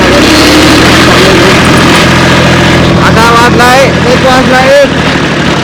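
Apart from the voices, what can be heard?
tractor engine running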